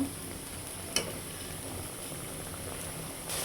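Potatoes sautéing with garlic in a pan while cooking foli fish, giving a steady, close sizzle and bubbling with one brief clack near the start and no talking.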